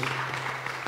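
A church congregation claps for two young girls, giving a brief, even patter of many hands close by, with a low hum underneath.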